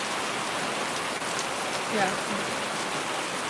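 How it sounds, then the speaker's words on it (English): Steady heavy rain pours down, a dense, continuous hiss of drops hitting surfaces close by, with a brief voice murmuring underneath. "It's raining pretty good here"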